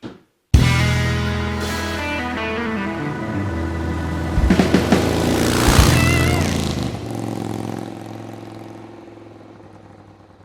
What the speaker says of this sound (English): I actually want to see if we can get life in this engine and fire it up.